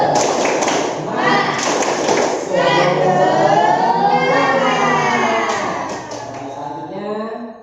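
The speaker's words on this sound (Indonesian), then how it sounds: "Sekarang tepuk semangat ya." Schoolchildren in a classroom perform the 'tepuk semangat' clapping chant, with rhythmic claps at the start giving way to loud, sung group voices in unison that fade near the end.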